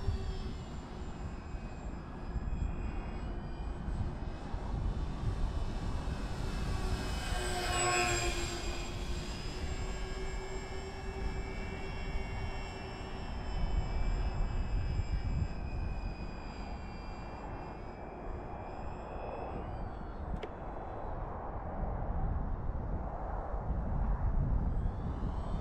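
An AVIOS HobbyKing Albatross HU-16 V2 RC model airplane in US Coast Guard livery flies overhead, its electric motor whining steadily and sweeping past in a Doppler pass, heard over constant outdoor wind and background noise.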